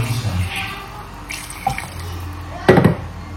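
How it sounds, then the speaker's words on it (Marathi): Hot water is poured into a pan of chicken for a gravy, producing a splashy liquid gush with a few drips and a louder splash near the end, heard close up. "तर आता हे गरम पाणी करून घेतलं तर ते टाकते रस्सा"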